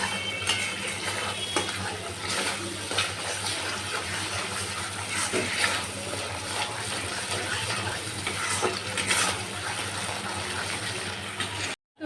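Masala spice paste frying in oil for a Bengali paneer dish gives a steady, close sizzle with soft bubbling and stirring, over a low hum, lasting nearly the whole clip before cutting off abruptly.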